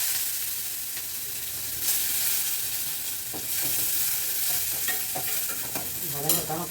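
Onions sizzle and crackle in a hot pan, steady frying with occasional stirring scrapes, close up and fairly loud, with no talking.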